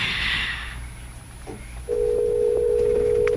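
A phone line gives a steady dial tone, then a brief pause before a continuous electronic ringback-style tone with a few clicks, close and clear, with no talking.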